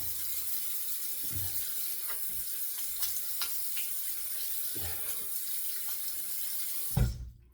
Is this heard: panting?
no